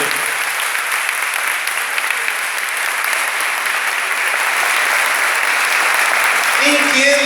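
A Catholic prayer-group crowd clapping at an anniversary celebration, loud sustained applause throughout, with a voice breaking in at the very end.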